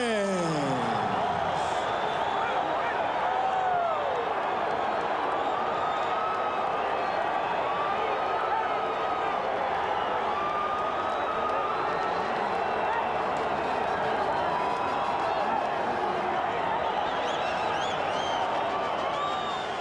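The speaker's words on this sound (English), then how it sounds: "So the crowd reacts to the split decision in favor of Erik Morales" Boxing arena crowd roaring steadily after a split decision in the first Marco Antonio Barrera vs Erik Morales bout, a dense continuous wash of cheers and voices with a commentator speaking over it.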